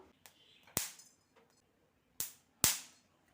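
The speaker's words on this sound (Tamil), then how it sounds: "மிளகு நல்லா வெடித்து வந்துருச்சு" Black peppercorns pop while dry roasting in a pan, four or five sharp isolated cracks scattered irregularly over a few seconds, close and fairly loud against near silence.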